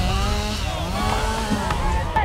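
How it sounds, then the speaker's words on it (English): A chainsaw runs at a logging sports competition, its engine buzzing steadily and shifting pitch through the clip while voices murmur underneath. "There's chainsaw events."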